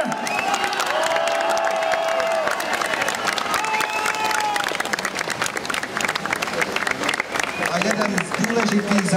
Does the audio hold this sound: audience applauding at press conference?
yes